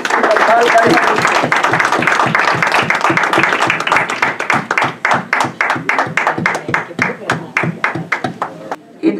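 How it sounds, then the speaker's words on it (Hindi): Enthusiastic applause from a gathering at a formal meeting welcoming the honoured guest who will preside, starting as a dense roar and thinning into a few distinct, rhythmic claps near the end. "आइए हम सब पुरजोश तालियों से अपने मोहतरम मेहमान करें।"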